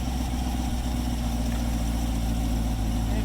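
A 2020 C8 Corvette fitted with aftermarket headers idles in quiet mode, giving a steady, continuous low rumble with even engine pulses and no revving.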